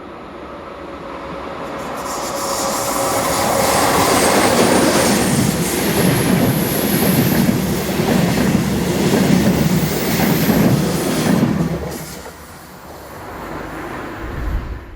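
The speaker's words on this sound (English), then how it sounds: "One 140 heads towards the camera with a slightly delayed southbound service for Stuttgart" Class 140 electric locomotive hauling a southbound passenger train to Stuttgart approaches and passes close by. A loud, rising rumble of wheels on rails with clickety-clack and brief squeals fades away near the end.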